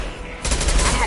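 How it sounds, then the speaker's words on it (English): A concussive shot goes off in the video game Mass Effect 2, a sudden loud burst that booms and rumbles after a brief quieter lead-in. "Firing concussive shot!"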